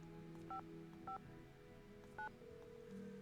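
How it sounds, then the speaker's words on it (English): Three short, clean touch-tone dialing beeps from a telephone keypad in the Nancy Drew video game Secret of the Scarlet Hand, spaced unevenly over a quiet hum of background game music. "Darn you dialing tones"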